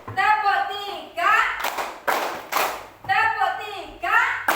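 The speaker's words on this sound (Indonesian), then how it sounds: "tepuk tangan" A class of young children chant together in a group, then break into a few sharp, loud bursts of hand clapping that sound close by and alternate with the chanting.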